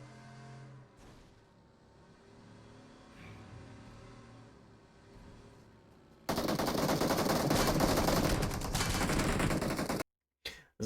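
Rapid automatic gunfire rattles loud and close in a battle royale video game, a dense sustained burst running for several seconds before cutting off abruptly, with a car engine faintly beneath.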